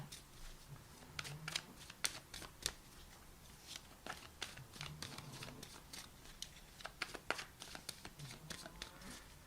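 Guidance cards are shuffled close up in a quiet room, a soft run of riffling flicks and slaps in uneven bursts, faint and alone with no talking.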